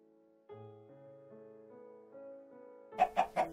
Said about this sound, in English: he's talking about real chickens in Minecraft